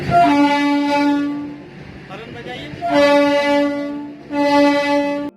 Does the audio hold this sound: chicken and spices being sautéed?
no